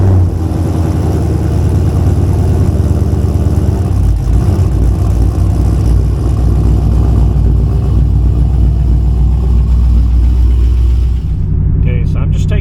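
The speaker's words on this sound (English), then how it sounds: "I'm just taking it for a test drive to see if I notice any negative effects from it" A car's engine runs continuously on a test drive after grease work on a UMI drag bar, a steady loud rumble with some revving that eases off near the end.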